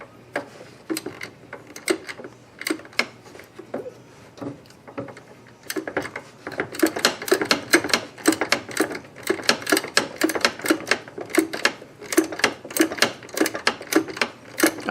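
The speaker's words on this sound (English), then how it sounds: "Get my wrench in here real quick." A wrench ratchets during a Ford Mustang master cylinder installation, sharp close clicks in short irregular bursts at first, then faster, denser runs of ratcheting, with no talking.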